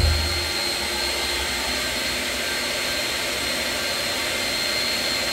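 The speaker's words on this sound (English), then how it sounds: "Unbelievably powerful vacuum." A powerful coolant recycling vacuum roars continuously with a steady broadband whoosh and a faint high whine, loud and close, with no one talking.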